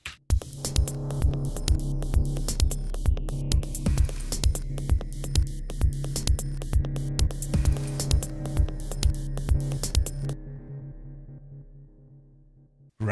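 Drum and drone tracks with delay play together: a steady pulse of loud, evenly spaced percussive hits sits over a continuous low drone, then both cut off abruptly and leave near silence.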